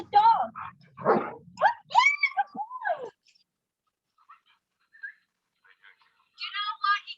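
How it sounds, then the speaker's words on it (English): A rescue dog on a leash during training gives a few close, high-pitched barks and whines, then falls silent before a final short burst of yelping. "oh, here's a dog"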